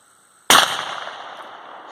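Single 12 gauge shotgun blast fired outdoors at a can, one sharp loud report after a moment of quiet, followed by a ringing decay that tails off over the next second and a half.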